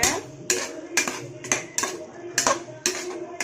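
Veg biryani with lemon is stirred in a pot, a spoon scraping and clinking against the metal in a steady rhythm of sharp knocks about every half second, close and fairly loud.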